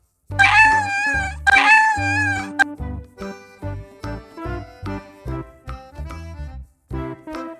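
A cat meows twice in long, loud, drawn-out calls near the microphone, followed by a string of shorter rhythmic meows, in an animal sound game for children.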